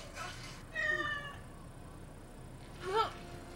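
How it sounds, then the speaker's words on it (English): A cartoon cat from a Teenage Mutant Ninja Turtles episode gives two short, clear meows about two seconds apart, fairly quiet against soft background noise. "They didn't create a cat just to meow."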